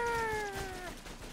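A cat meows in the modded video game Rounds, a single drawn-out, falling meow that is clear but fairly quiet, with faint background noise after it.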